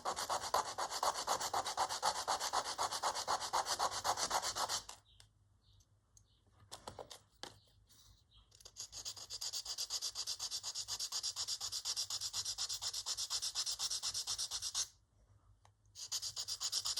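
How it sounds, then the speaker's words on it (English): A small wooden box for a woodland journal being sanded by hand, close rhythmic rubbing strokes in long bursts, broken by two short pauses with light handling taps. "I think I have to sand the box down here a little bit."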